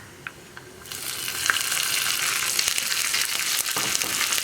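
Raisins and coconut pieces frying in hot ghee for payasam: a quiet start with a few soft taps, then a sudden strong, steady sizzle and bubbling hiss close up, with light stirring, no voices.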